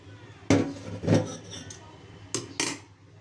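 Boiled taro stolons tipped from a pot into a basket for draining, with two sharp clattering knocks of metal and basket followed by two more softer bumps, close by with no talking.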